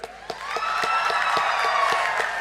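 A large crowd applauds and cheers for the Assam contingent at the closing ceremony of the 3rd North East Games in Nagaland, 2024. Sustained, dense clapping comes with a few sharper claps and whoops rising above it.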